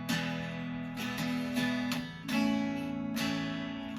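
A guitar is strummed with the back of a finger on a classic rock song. Several ringing chords land at an uneven pace and each one sustains into the next, close and clear.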